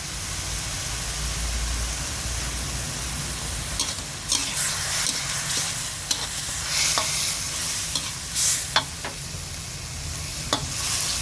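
Vegetables stir-fried in a hot pan with garlic, a steady loud sizzle running throughout, punctuated by sharp scrapes and clacks of the spatula against the pan at irregular intervals.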